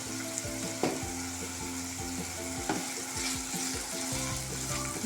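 Vegetables with turmeric frying in a pan for noodles while being stirred, a constant crackling sizzle up close punctuated by a few sharp utensil knocks and scrapes.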